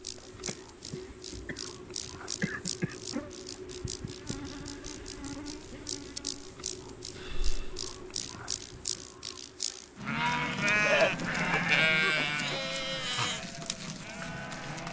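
A flock of around a hundred sheep with nomadic herders on migration bleats in many overlapping calls, loudest over the final few seconds, while insects buzz steadily throughout.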